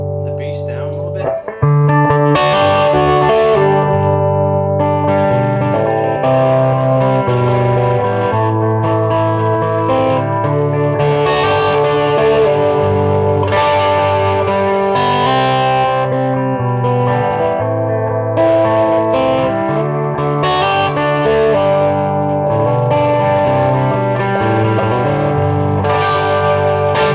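A clean electric guitar on the bridge pickup plays through a vintage 1964 Fender Bassman amp with the treble raised and the bass lowered, giving sustained chords and notes with a roomy tail, loud and continuous for almost half a minute.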